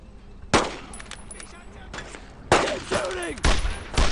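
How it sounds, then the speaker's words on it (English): Battlefield gunfire in the World War II shooter Brothers in Arms: Road to Hill 30, sharp separate shots and short bursts cracking out at irregular intervals, some louder and closer than others, with brief shouted voices among them. "Shooting!"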